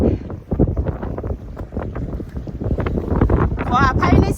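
Strong, gusty wind at the seashore in Sweden roars across the microphone in a steady rush, with voices partly audible beneath it.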